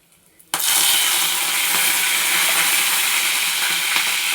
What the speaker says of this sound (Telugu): నూనె వేడెక్కింది. ఇవి వేసుకుందాం ఇలా పోపులో.